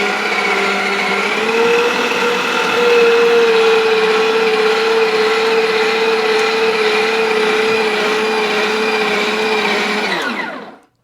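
A mixer grinder's dough attachment kneads chapati dough with a loud, steady motor whine that holds at an even pitch for about ten seconds before spinning down and stopping.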